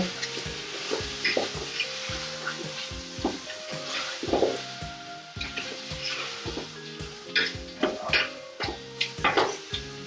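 Onions frying in a pan for coconut chicken, a steady sizzle under clinking stirring and scraping of a utensil against the pan, close and continuous, with a faint musical tone in the background.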